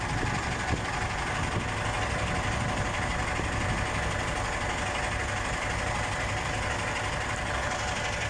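A tractor engine idles in a steady, loud, unbroken drone on a forest road, with a low knocking vibration and no talking.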